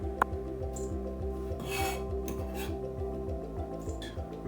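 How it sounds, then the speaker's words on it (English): A knife finely minces parsley on a cutting board, making a quick, steady run of soft chopping and rasping strokes close by, with a brief clink near the start. "So I'm just finely mincing up this parsley."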